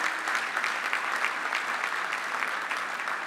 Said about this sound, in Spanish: dispensemos un aplauso para Luis Enrique María